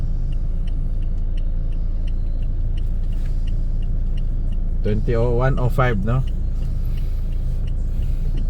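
Car moving through heavy Davao City traffic, a continuous low engine and road rumble inside the cabin with faint ticking, while a person speaks briefly in the middle.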